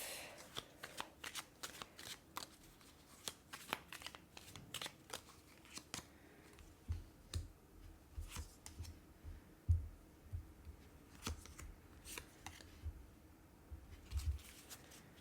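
A tarot card is handled and laid down during a sentimental card reading, giving a run of soft, close papery flicks, shuffles and taps with faint low thumps as it lands, and no voice over it.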